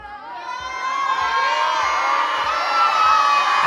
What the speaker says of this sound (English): As the kids were yelling yes